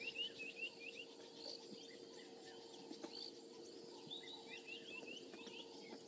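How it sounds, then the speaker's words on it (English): Wild birds call and chirp, scattered and distant, over a steady low hum of background noise on an African safari drive in the morning, with no talking. "We can just hear all the birds."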